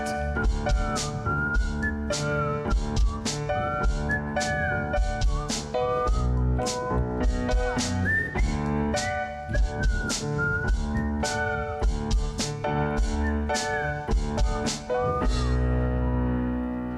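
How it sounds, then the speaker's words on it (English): Several people of a boat crew whistling a melody together, bright tuneful notes over steady rhythmic music. "Enjoy my crew whistling, because I cannot."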